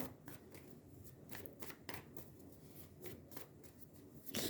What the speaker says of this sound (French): Une dernière carte. Avec un petit oracle que j'ai créé moi-même de 10 cartes.